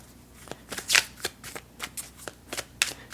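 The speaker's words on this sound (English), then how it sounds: "These cards are littler than I'm used to shuffling now." Close hand shuffling of a small tarot deck, a quick series of papery riffles and flicks with a couple of sharper snaps, alone in a quiet room.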